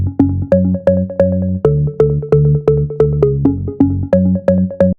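A lightly distorted organ bass synth preset called Set Me Free in a house track, playing a bouncy riff of short repeated stabs with a plucky decay, loud and close with no voices.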